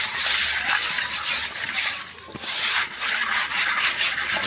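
Coarse salt rubbed by hand over a freshwater fish to clean its skin, a steady close gritty scrubbing with short strokes and a brief pause midway.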